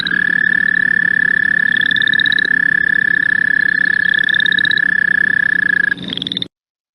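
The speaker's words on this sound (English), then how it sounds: "The American toad, you'll hear the chorus frogs in the background of this one, but they have a long trill, which is very characteristic." An American toad gives a long, steady, loud trill that runs almost unbroken for about six seconds, while chorus frogs add short rising rasping trills in the background.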